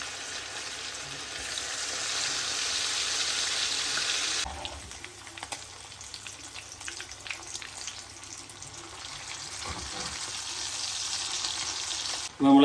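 Green chillies and curry leaves fry with beef for a Kerala-style beef dry fry, a steady loud sizzle that shifts partway through to a softer, busier crackle with light stirring, and no talking.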